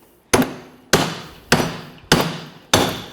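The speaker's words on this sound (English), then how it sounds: "Grab your hammer or whatever you might have and go ahead and give it a couple bonks" A hammer strikes a front shock and spring assembly on a 2002-2009 GMC Envoy five times at a steady, deliberate pace, each sharp ringing clang decaying before the next blow, close and loud.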